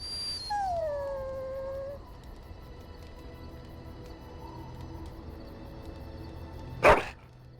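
A dog in the fantasy role-playing game Dragon Age Origins gives a drawn-out falling howl and whimper at camp, then quiet ambience and a short sharp burst near the end, no talking.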